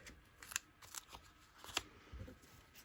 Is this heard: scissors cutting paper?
yes